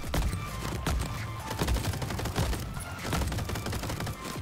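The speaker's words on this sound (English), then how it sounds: "Uh-oh, they have shotguns now." Crab enemies firing shotguns in a chaotic video game battle, dense overlapping blasts rolling on continuously and loudly with no gaps.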